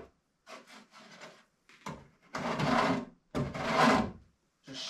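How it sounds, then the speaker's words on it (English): A small hand planer shaves wood on a strip canoe build, giving several rasping strokes of varying length at close range, the later strokes longer and louder, with short pauses between them. "Also got this little hand planer. It's almost like a cheese grater."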